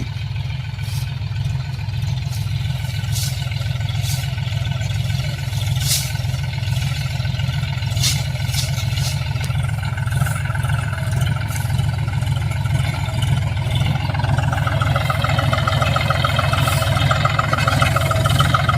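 A steady low engine drone runs throughout, a diesel tractor idling nearby in a groundnut field with constant rumble and no talking.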